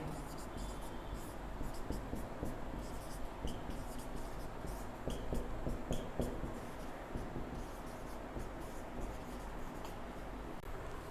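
Marker or chalk writing on a classroom board during a rectangle mensuration lesson, faint intermittent scratchy strokes under steady room noise and a low hum, with no clear talk.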